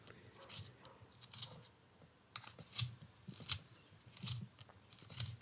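Pastel pencils are sharpened in a hand sharpener, a faint, close series of scraping, crisp rasps repeating in short strokes every half second or so, with soft thumps between them.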